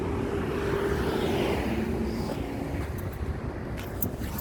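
Nissan Altima engine idling on a single ignition coil, giving a steady, rough, low rumble with some wind noise, continuous and close for the whole stretch.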